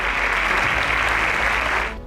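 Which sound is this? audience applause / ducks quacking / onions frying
audience applause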